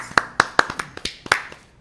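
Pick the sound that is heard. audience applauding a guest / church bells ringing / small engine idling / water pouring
audience applauding a guest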